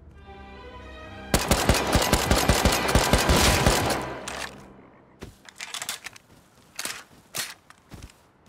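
Gunfire in the video game Rust: a dense burst of rapid automatic shots for several seconds, then scattered single cracks and footstep-like clatter, loud and close, with no voices.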